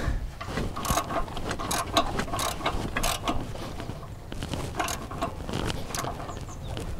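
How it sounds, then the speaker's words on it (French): A ratchet wrench fitted with a slotted lambda-sensor socket tightens an 18 mm oxygen sensor on a Ford Mustang, giving rapid close clicking in bursts with short pauses, alone without talk. "j'ai pris ma douille spéciale pour sonde lambda"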